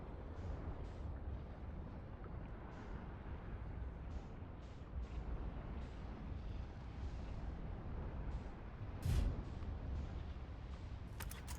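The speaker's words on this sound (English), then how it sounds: "I think the sun's about to explode" A deep, continuous roaring rumble, like an eruption, as the sun explodes in the space exploration game Outer Wilds; the broad, heavy noise holds steady with a brief louder burst near the end and no talk.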